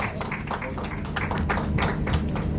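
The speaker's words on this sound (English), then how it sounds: "Please, another round of applause for Lola" An audience at an estate launch gives a round of applause: a run of clapping and tapping that swells slightly toward the end, fairly close and steady.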